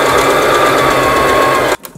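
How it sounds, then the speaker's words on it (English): Sewing machine running a backstitch on a homemade wig grip, a loud, close continuous motor whir with rapid needle chatter that stops abruptly just before the end, followed by a small click. "And you sew your backstitch."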